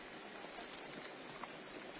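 Steady rain falls on a golf course during a women's professional tournament round, a soft, even hiss of drops heard faintly throughout with no talk.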